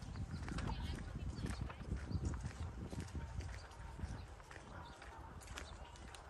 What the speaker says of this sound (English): They have horses over there.